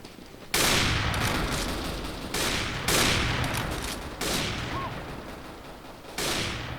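AWP sniper rifle fire in Counter-Strike: Global Offensive, with five sharp, loud shots at uneven intervals, each followed by a long decaying tail over steady game noise.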